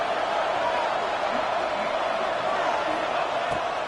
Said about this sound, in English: the noise from this crowd on 3rd and 4